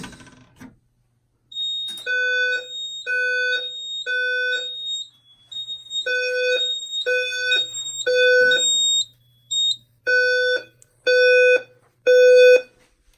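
A Simplex 4010 fire alarm system sounds during a walk test, pulsing loud electronic horn-strobe tones in a repeating temporal pattern of three blasts followed by pauses, close and alone without speech.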